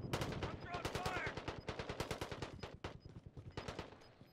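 Rapid automatic gunfire rattles in Call of Duty: Modern Warfare, dense bursts of sharp shots in quick succession that continue with short gaps through to the end.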